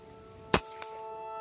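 A single sharp crack of a Predator Racoon Dural OD 38 air rifle shot, close and sudden, with a faint metallic ping a moment later against a quiet background hum.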